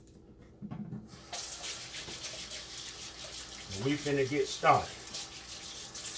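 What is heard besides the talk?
tap water running, washing hands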